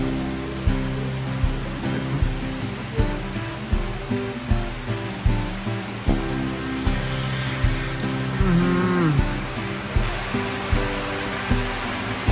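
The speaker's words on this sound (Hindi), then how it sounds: "आज तो सुबह सुबह बारिश स्टार्ट हो गई यार।" Morning rain patters steadily on surfaces outdoors, a continuous hiss with irregular drips, under a persistent rhythmic mechanical hum and brief faint sounds nearby.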